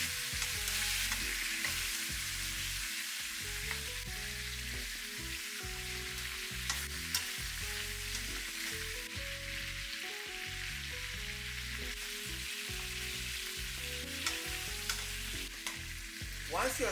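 Beef back ribs browning in hot oil, a dense, continuous crackling sizzle that stays steady and close throughout, with a low hum underneath and no talk.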